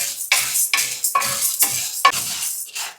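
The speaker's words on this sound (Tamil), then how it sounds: "இப்போ இது ரெண்டையும் நல்லா பொன்னிறமாக வறுத்துக்கிட்டுங்க" Chana dal and toor dal dry-roasting in a pan, stirred in repeated scraping strokes about every half second, with light sizzle and the clatter of the spoon against the pan, close and fairly loud, no voices.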